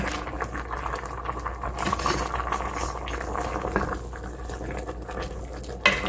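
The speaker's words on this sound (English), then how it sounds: "So I'm going to just sprinkle this beef bouillon in there and give it a stir" A spoon stirring beef bouillon into liquid in a pot, a steady bubbling, swishing wash with faint clinks of metal on the pot, close and moderately quiet.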